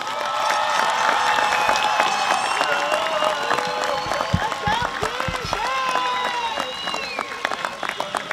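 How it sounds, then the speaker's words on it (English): A crowd at a 2023 high school graduation ceremony applauds the graduates, with dense sustained clapping, scattered cheers and whoops, and voices among the crowd throughout. "Can we please get another round of applause for our graduates?"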